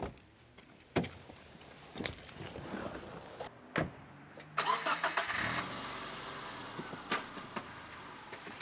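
A 1999 Subaru Legacy with a heavily reworked 2.5-litre flat-4 boxer engine cranks and starts, then settles into a steady idle, preceded by several sharp clicks and clunks nearby.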